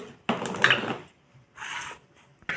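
Dried red chillies and peanuts tipped into a grinder jar, giving a bright rattling clatter that lasts under a second, then a shorter, softer spill of pieces, close and fairly loud.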